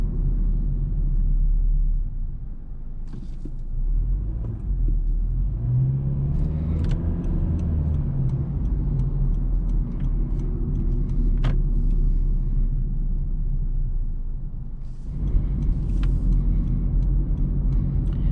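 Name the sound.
2022 Honda Civic LX driving on road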